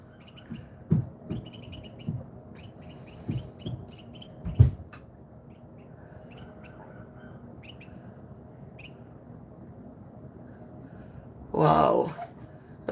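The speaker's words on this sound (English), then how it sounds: "The birds are chirping." On a snowy day, birds chirp in short, scattered calls at a moderate distance, spread through an otherwise quiet outdoor scene. A few soft knocks come early, and a louder rustling burst comes near the end.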